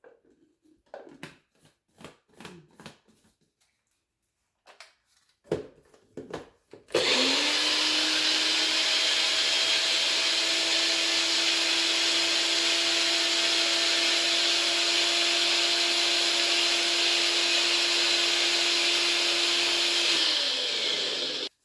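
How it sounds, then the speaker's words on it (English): A NutriBullet blender grinds galangal for red curry paste, running as a loud, steady whine that holds for about fourteen seconds before stopping, after a few seconds of quiet handling clatter at the start. "I'm using my NutriBullet to process the galanga separately"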